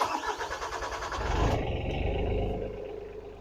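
A Komplet Kompatto 221 crusher's engine cranks with a rapid rough chatter, then catches and settles into a lower rumble as it starts, close and fairly loud.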